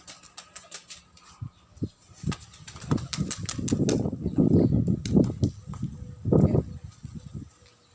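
A flurry of bird wing flaps with sharp clicks and fluttering bursts, close by, growing denser and louder midway, with no voices, during a sandstorm.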